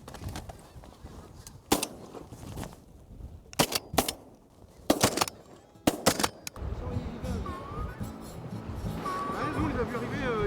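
Shotguns fire during a duck hunt, with loud blasts coming singly and in quick pairs across a few seconds. Goose-like honking and calls follow after the shooting, over quiet outdoor background.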